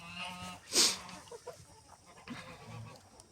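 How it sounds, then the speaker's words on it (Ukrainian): Domestic farmyard geese honking close by, one loud sharp honk rising above softer scattered calls and cackles over a low background. "Ось наші гуськи. Гуськи наші."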